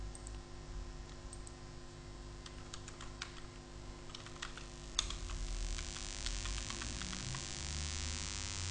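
Keys clatter on a computer keyboard in quick irregular bursts at close range, with scattered sharper clicks over a steady low hum; no one speaks.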